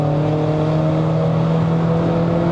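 A 1.6-litre M270 four-cylinder turbocharged engine in a W205 Mercedes-Benz C180 AMG Line drones steadily while climbing a mountain road to Genting, Malaysia, heard from inside the cabin as a constant loud hum with no talk.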